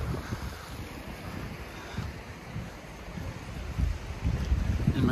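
Sea waves and gusting wind on the English coast where a river flows into the sea, a constant roar of surf with rumbling wind buffeting the microphone, loud and close.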